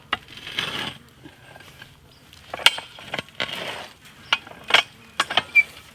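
Metal T-post puller working onto a T-post outdoors, a series of sharp clanks and ratcheting clicks in irregular bursts, fairly close.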